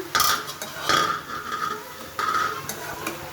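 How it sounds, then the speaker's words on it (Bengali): Bitter gourd fry stirred in a pan on high heat: a utensil scrapes and clatters against the pan in several strokes over a faint sizzle, close and fairly loud. "এখন হাই হিটে রেখে আমি নাড়াচাড়া করছি"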